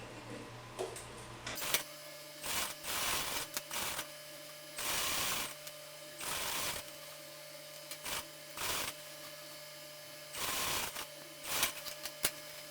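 A sewing machine stitches a seam with a 1 cm margin on a long vest, running in repeated short bursts of rapid whirring separated by brief pauses, close and clear with no voices.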